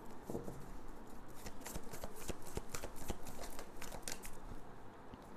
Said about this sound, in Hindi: मेजर अरकाना से हम 5 कार्ड्स लेंगे और फिर उससे क्लैरिफाई करेंगे टैरो से